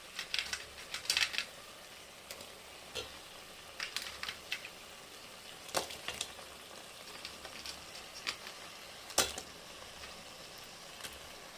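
Crab frying in a spiced masala gravy of sautéed tomatoes, a continuous soft sizzle broken by scattered sharp clicks and scrapes of stirring, close and fairly quiet with no talk.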